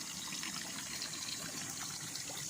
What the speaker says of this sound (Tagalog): titingnan nyo po yung mismong tubig nandyan sa nanggagaling sa lupa o maagos po siya